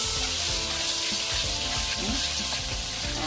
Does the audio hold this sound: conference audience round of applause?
no